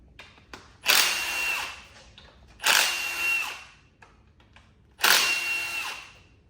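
Three separate bursts from a power tool as it backs out 8mm valve cover bolts on an LS 6.2 engine, each a loud whirring spin lasting about a second and a half, with short pauses between them and no talk.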